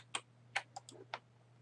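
A few separate keypresses click on a computer keyboard, five quick taps over under two seconds, close and fairly quiet over a steady low hum.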